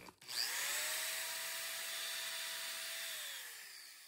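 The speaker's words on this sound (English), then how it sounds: "we'll pre-drill our pilot right about there" A power drill bores a pilot hole into a wooden dowel at steady speed for about three seconds, then winds down, with a faint high whine on top; no talking.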